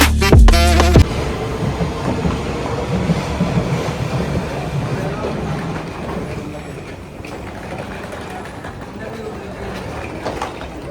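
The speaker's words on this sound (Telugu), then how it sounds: "లండన్లో అండర్ గ్రౌండ్ ట్రైన్ స్టేషన్ అయితే ఇట్లుంటుంది." A London Underground station rumbles with a steady, fairly loud train and platform roar that eases slightly over time, following a brief sharp burst at the start.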